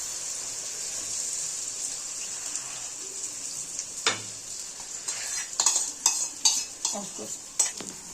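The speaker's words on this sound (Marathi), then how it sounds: "यावरती आपण हे सगळं मिश्रण टाकून घ्यायचं" Curd pithla mixture with chilli and coriander poured onto a hot griddle: a steady hiss and sizzle with scattered clinks and scrapes of a utensil growing busier toward the end.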